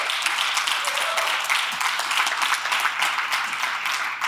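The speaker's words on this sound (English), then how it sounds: "Let's give a round of applause for that documentary." Audience applause at a keynote event follows a documentary screening, steady, dense clapping filling the whole stretch at an even level without a clear start or finish.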